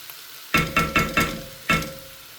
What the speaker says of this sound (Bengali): পেঁয়াজ দিয়ে দিলাম করলা ভাজিটায়